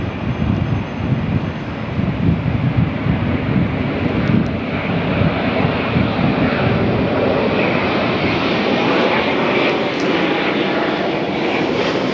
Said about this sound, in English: Finnair flight number 1 heavy